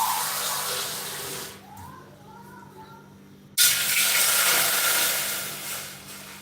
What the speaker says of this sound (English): Then I'll be adding water.